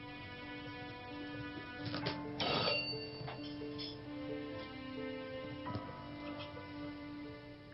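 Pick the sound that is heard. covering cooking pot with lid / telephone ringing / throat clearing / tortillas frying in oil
telephone ringing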